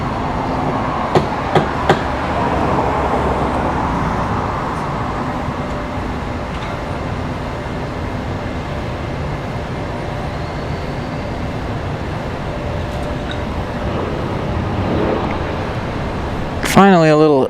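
An Etihad airliner arriving at Washington Dulles airport gives a steady, broad roar that holds throughout, with a voice talking over it and a brief louder burst near the end.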